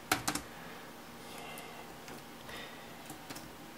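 Keys pressed on a Lenovo IdeaPad U410 laptop keyboard, a few crisp close clicks in a quick burst at the start followed by sparser scattered taps over a quiet background.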